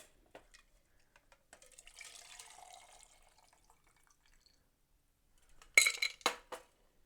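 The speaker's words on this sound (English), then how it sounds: "I'm gonna put a bit of ice in this glass." Ice cubes drop into a red wine glass used in place of a goblet, giving a quick burst of bright clinks and rattles after a quiet stretch with faint handling noise.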